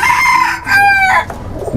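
A rooster crows close by, one full drawn-out call with a rising and falling tone, and a hen clucks faintly underneath.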